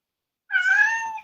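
A single clear cat meow with a rising then falling tone lasts under a second, close and alone after a brief silence.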